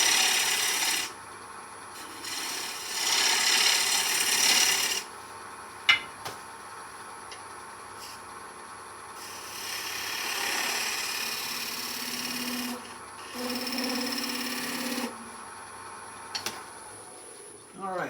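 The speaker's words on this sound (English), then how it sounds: "Maybe I'll use my gouge to get it down just a little bit." A woodturning gouge cuts a tenon on an 8-inch segmented wooden bowl spinning on a lathe, making bursts of close, raspy scraping separated by quieter stretches of the lathe's steady hum, with a sharp knock partway through.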